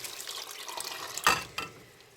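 Clean water poured from a container into a pot of rinsed pinto beans on the stove, a short splashing pour that rises suddenly and then trails off, fairly quiet and close.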